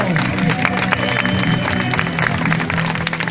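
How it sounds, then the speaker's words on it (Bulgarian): Audience at a motor show applauds a young rider from Italy with loud, dense, steady clapping and some crowd noise throughout, over a faint musical tone. "Аплодисменти за Тео Матео!"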